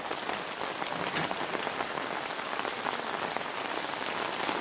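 Heavy rain pours steadily in Kadapa district as water runs across the roads. It makes a dense, even hiss of drops beating on surfaces, continuous and close, with no voices.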